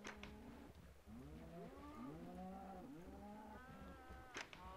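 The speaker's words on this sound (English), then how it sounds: "I'm honestly about to freak out at these cows." Cows mooing in Minecraft, several overlapping low bovine calls rising and falling over nearly five seconds, faint and layered with no talking.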